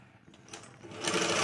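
A sewing machine runs at a steady hum while stitching a cross-cut blouse, close and moderately loud, speeding up toward the end of the brief burst with no talking.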